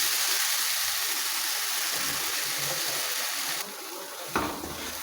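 Tomato puree crushed in a mixer simmers in a pan while masala bhindi is being cooked, giving a steady soft bubbling and sizzling hiss with a few faint clinks near the end.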